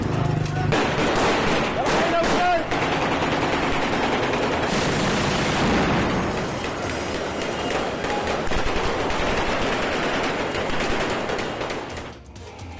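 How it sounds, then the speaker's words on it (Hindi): Sustained gunfire from Syrian civil war fighting, with dense, loud bursts of automatic fire and rapid cracks continuing throughout, while voices are heard amid the shooting. "अलवायत और बाकी अल्पसंख्यक समुदाय पर गोलीबारी कर रहे हैं"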